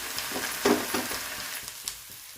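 A wet cloth soaked with water is laid on a hot tawa while making a wheat-flour dish, giving a short close sizzle with a brief louder burst near the start.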